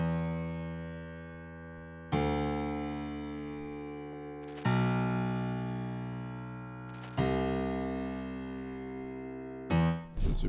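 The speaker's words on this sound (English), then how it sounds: "So the first melody is this piano from Xenology." Synthesized piano melody for an FL Studio beat at 95 BPM, a sustained chord-like phrase restruck every two and a half seconds with slow decays, clear and alone with no voices.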